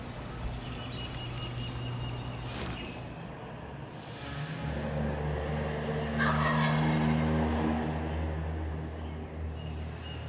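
A wild turkey gobbler in a strut zone gobbles in the woods, one or two fairly faint, distant calls rising over a quiet outdoor background with a low steady hum.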